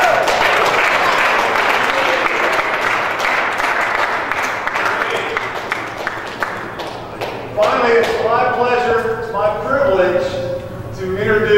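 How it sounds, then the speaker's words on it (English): MacMurray student section and fans applaud loudly in a dense, sustained wash for several seconds, then the clapping thins and voices rise over the tail end. "Give yourself a round of applause."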